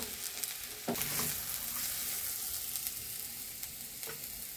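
Food fries in a pan with a dense, bright sizzle that holds steady, broken by a few sharp stirring knocks. No speech.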